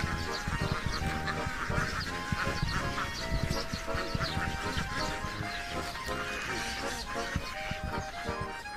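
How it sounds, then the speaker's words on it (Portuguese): A large flock of ducks on the Mekong River is herded home in the evening, filling the air with dense, overlapping quacks and honks that continue without a break at close range. "os pastores de patos levam seu rebanho de volta para casa"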